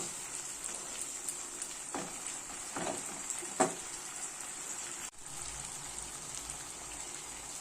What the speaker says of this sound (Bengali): এবার এইগুলো আমি দিয়ে টমেটোটাকেও আমি মশলার সাথে একটু কষাবো।